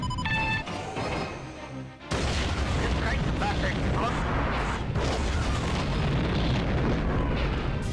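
Missile launch and explosion in the space combat game Wing Commander: Standoff, a tonal cockpit sound giving way to a sudden loud blast that settles into a sustained roaring rumble.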